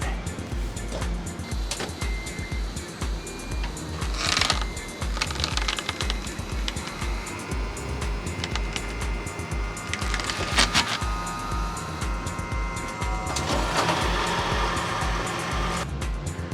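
A car's wheel slowly rolls onto a wooden skateboard deck to flatten its nose, giving dense crackling, splintery creaks and pops, close and continuous, with a few louder cracks.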